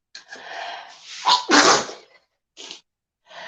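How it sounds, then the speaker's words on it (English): A person sneezes loudly and close, a quick gasping inhale building into a sharp burst, followed by a couple of short breathy sounds after it. "I'm gonna sneeze."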